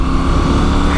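A Moto Guzzi V7 Stone motorcycle engine accelerating during a ride, a loud, steady, close-up engine drone with no break through the short stretch.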